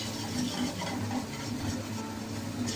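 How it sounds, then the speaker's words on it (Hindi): Mushroom masala is stirred steadily by hand in a kadhai over a full flame, a continuous scraping and sizzling churn heard close and even, with no talk. "मैंने फ्लेम जो है फुल रखा है और लगातार हाथ से चला रही हूँ।"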